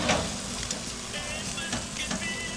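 Shrimp sizzle in a hot pan with a steady, close frying hiss and faint crackles throughout, with no voices over it.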